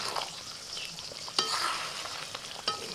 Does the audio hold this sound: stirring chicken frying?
yes